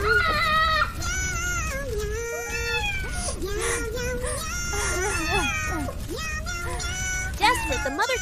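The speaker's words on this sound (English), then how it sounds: "cat was terrified when she heard her kitten's screams" Kitten in a cartoon house fire cries and meows repeatedly, with high wavering wails and mews that rise and fall, close and loud over a steady background bed.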